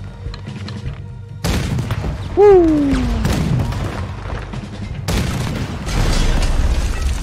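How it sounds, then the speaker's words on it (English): Cannon fire in Red Dead Redemption 2 booms in heavy, broadband blasts, one sudden hit and another a few seconds later, amid game noise and an excited shout. "Guess who's doing the cannon?"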